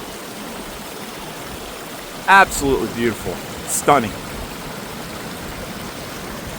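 A small waterfall and stream run through a glen, giving a constant soft rushing wash throughout, with a person speaking briefly over it in the middle.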